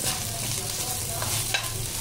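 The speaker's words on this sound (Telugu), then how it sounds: "అల్లం వెల్లుల్లి పేస్ట్ అడగంటకుండా ఇలా కలుపుతూ ఉండాలి." Ginger garlic paste sizzles with onions in a pan while being stirred, giving a continuous close fry hiss with scraping strokes of the spoon and one sharper clack near the end.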